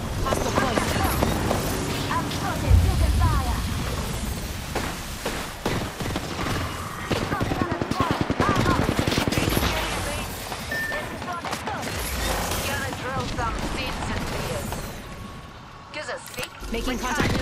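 Gunfire in the Apex Legends video game: rapid, dense bursts of weapon fire and impacts rattle throughout, mixed with heavy thuds and mechanical clatter, with voices talking over the fight.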